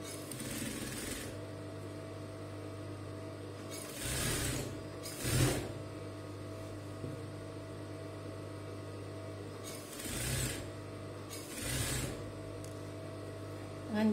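A sewing machine stitches the hood of a djellaba in several short bursts of rapid whirring, separated by a quieter steady motor hum, with no talking.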